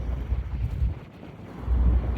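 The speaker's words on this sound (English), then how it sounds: "Pretty windy out here." Strong wind gusts buffet the microphone outdoors in Cheyenne, Wyoming, a loud, rumbling roar that rises and falls continuously, with no talking.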